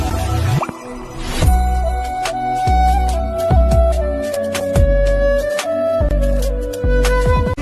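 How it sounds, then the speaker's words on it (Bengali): Water drips and plops steadily at an outdoor tap in a rural yard while someone washes hands and feet, with a rhythmic series of close, fairly loud drops and a faint ringing tone underneath. "আর আমি এখন কলতলায় এসেছি, হাত পা ধোবো"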